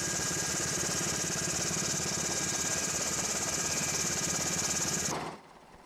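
A steady, loud National Guard helicopter rotor-and-engine drone thrums throughout with an even pulsing beat during Fargo flooding, then drops away abruptly near the end.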